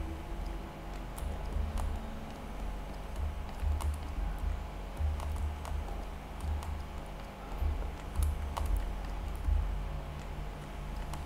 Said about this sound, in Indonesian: siapa itu yang mengetik di dalam?